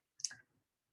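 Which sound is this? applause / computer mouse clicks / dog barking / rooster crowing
computer mouse clicks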